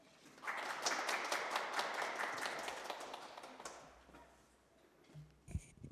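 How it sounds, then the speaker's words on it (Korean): Audience clapping at a women's and family foundation forum in Incheon, a clear burst of many hands that builds quickly, holds, then thins and fades out over several seconds. "큰 박수 부탁드립니다."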